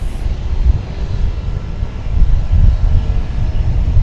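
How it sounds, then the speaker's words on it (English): A practically new aircraft built in 1995 departs DFW Airport bound for Abilene, Texas, its engines giving a steady, loud low rumble that holds throughout with slight swells and no talk. "This aircraft's going to Abilene, Texas."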